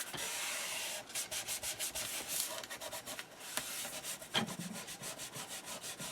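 Fabri-Tac craft glue, dried, being rubbed off a paper page by hand: soft, steady scratchy rubbing strokes in a quick repeated rhythm, close and fairly quiet, with no talk.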